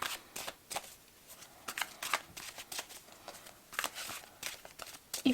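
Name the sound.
shuffling a Spirit Song Tarot card deck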